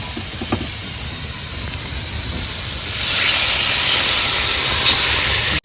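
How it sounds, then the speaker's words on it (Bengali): Water is poured into a hot pan of fried crab and potatoes cooking aboard a boat, producing a loud, steady hiss that swells into a stronger sizzling rush midway and continues until an abrupt cutoff. "কাঁকড়াটা ভালো করে কষিয়ে নিয়েছি, এবার জল দিয়ে দেবো।"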